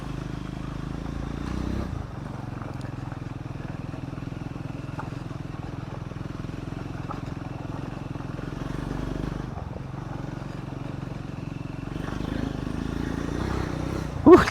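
A Triumph Scrambler 400X motorcycle ridden off-road on muddy ground, its engine a steady low drone under wind rumble with a brief dip and a louder bump at the end.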